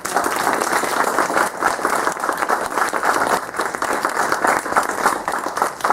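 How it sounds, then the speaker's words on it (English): Parents at a primary school class assembly give a big round of applause, a steady, full clapping that stays loud and even throughout without a break. "I think they deserve a really big round of applause there."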